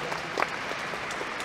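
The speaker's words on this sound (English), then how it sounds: "Keep applauding until they leave the stage." Audience applause at a live stage event, a steady patter of many hands clapping at moderate volume for a short stretch, with no talk over it.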